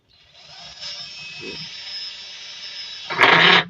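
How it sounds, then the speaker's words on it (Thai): Cordless battery drill boring drain holes into the underside of a washing machine tub whose spin-dryer drum won't turn, a steady whining drill run that ends in a loud, bright burst of grinding as the bit bites through. "อันนี้เรามาเจาะนี่เอาน้ำออกครับก็สว่านธรรมดาแหละครับ มันจะสว่านแบตได้เจาะลงไปครับ"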